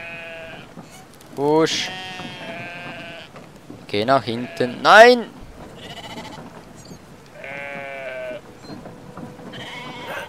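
Sheep bleat repeatedly in the video game Brothers: A Tale of Two Sons, several wavering calls overlapping at moderate loudness while someone talks over them.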